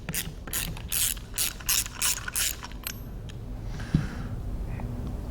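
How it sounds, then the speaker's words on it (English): A ratchet with a 3/4 inch long socket clicks in several quick bursts while loosening bolts on a Cla Val 55L-60 fire pump casing pressure relief valve, followed by quieter handling and a single small clack. "This is where I use a 3/4 inch long socket, and we'll loosen this up."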